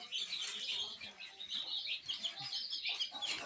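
Small baby chickens cheep continuously in a high, busy chorus of overlapping peeps, close by and fairly steady, with no talking.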